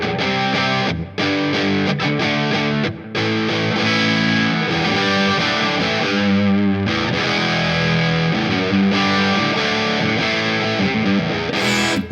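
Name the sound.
electric guitar through DigiTech Hot Rod pedal, gained-down fuzz setting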